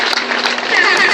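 Applause from a crowd at a stop-torture campaign gathering in Port Harcourt, a dense steady clapping lasting about a second and fairly loud.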